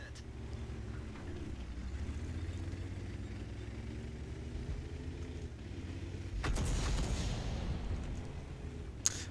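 Heavy cannon blasts of high explosive tank shells in an online tank battle game, a sudden loud boom near the end over a steady low engine rumble, followed by a lingering roar.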